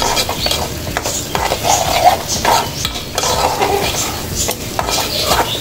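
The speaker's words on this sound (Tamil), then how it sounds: "நல்லா கிளறி விட்டுருங்க. அப்படியே எல்லாம் மொத்த வெங்காயம் நல்லா இப்படி மிக்ஸ் பண்ணிக்கணும்." Onions and okra are stirred in a pan for an egg masala, a spoon scraping and clinking against the metal in uneven strokes, with a light sizzle underneath.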